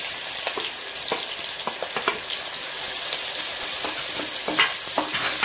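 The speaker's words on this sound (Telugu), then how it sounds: "ఇవన్నీ వేసి బాగా ఫ్రై చేస్తాం తర్వాత ఆనియన్స్" Spices frying for mutton chops in a pan: a steady, close sizzle with scattered stirring scrapes and clicks throughout, no voices.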